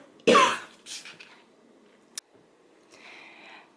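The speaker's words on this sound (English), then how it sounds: "I did succumb to a bit of a coughing fit" A woman coughing indoors: one sharp, loud cough followed by a softer one, a quick throat-clearing click, then a faint breathy wheeze as the fit settles.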